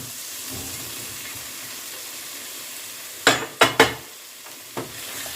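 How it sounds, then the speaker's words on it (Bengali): Fried potatoes and pumpkin dropped into a spice masala sizzling in oil, a low steady sizzle broken by several loud splashing bursts as the pieces go in, then a quieter stir. "এবার আমি এর মধ্যে দিয়ে দিচ্ছি ভেজে রাখা আলু আর কুমড়োগুলো"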